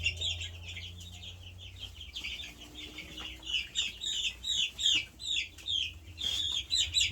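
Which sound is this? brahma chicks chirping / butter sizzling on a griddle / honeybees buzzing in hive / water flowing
brahma chicks chirping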